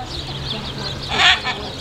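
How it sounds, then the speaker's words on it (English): Birds at a bird exhibit give a short, moderately loud squawking call near the middle, over a low background hum and faint chatter. "Oh, look, they have birds right here."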